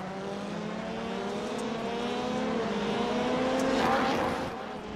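Rallycross Lites race cars at Circuit de Barcelona-Catalunya, engines droning and rising in pitch as they accelerate through the opening lap, a loud continuous roar with overlapping cars passing.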